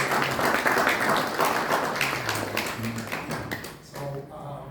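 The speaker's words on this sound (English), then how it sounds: "I would like if we can clap our hands to you." Audience applause in a hotel conference room during a UK–DRC business partnership event at the Marriott, Canary Wharf: dense, sustained clapping from a crowd that gradually thins and fades toward the end.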